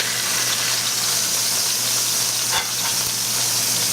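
Steak searing in oil in a hot pan, a constant loud hissing sizzle close up, with a brief sharper crackle burst midway as the oil is rocked around.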